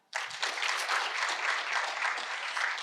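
An audience breaks into clapping after a sudden start, a steady wash of many hands applauding together for a few seconds with no voices over it.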